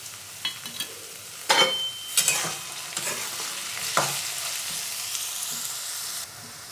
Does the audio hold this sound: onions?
yes